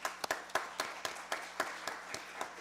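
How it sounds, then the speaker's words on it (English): Sparse applause from a small group at a county board of commissioners meeting, a handful of distinct claps at an irregular rhythm, moderately close and fairly quiet in a room. "Let's give Director Mills and PR a round of applause."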